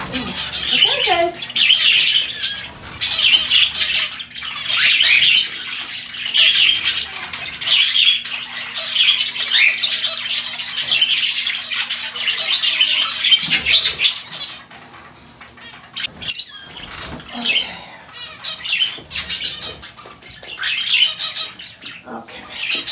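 A crowd of small indoor birds squawks and chirps continuously, loud and close, while a person talks intermittently over the chatter.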